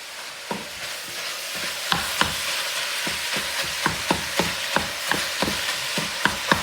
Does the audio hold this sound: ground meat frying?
yes